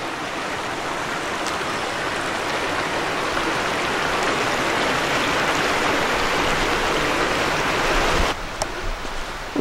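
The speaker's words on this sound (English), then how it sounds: "You got the orange water flowing out" Steady rushing orange water flowing continuously out of an old mine near Bear Gap, Pennsylvania, a dense broadband wash close by with no pauses, briefly dipping near the end.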